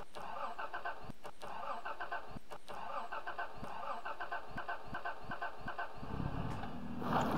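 A car engine starts up in the Squad military shooter, a steady motor hum with irregular clicks and thumps, then a louder low rumble as it catches near the end.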